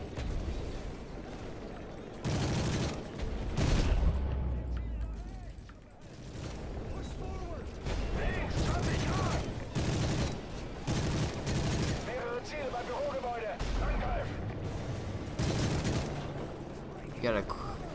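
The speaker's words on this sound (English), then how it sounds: "That guy's shooting." Gunfire in the video game Call of Duty: Modern Warfare 3 erupts in repeated bursts of shots and booms, while players talk excitedly over the game sounds.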